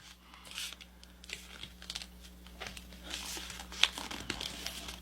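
A sheet of paper is folded by hand into a paper airplane wing, giving soft, close crinkles and rustles with a few sharper creases, quiet and without talk.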